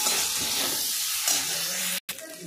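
Potatoes fry in oil with salt and turmeric, giving a steady, close sizzling hiss that cuts out briefly near the end before resuming.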